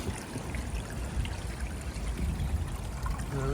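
Water rushes and trickles steadily through a broken beaver-style dam of branches, a continuous close burbling flow with no pauses.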